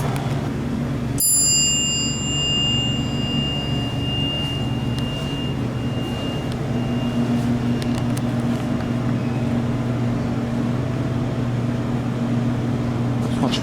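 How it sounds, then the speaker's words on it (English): A Dover traction elevator at Philip Hoffman Hall, University of Houston, sounds a single bright chime that rings out and slowly decays over a steady low hum of lobby machinery, with faint clinks later. "we're gonna better sample the chime"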